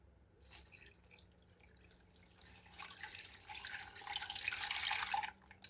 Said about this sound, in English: now I'm just going to cover it with some water